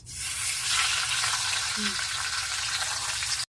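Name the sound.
fish head frying in oil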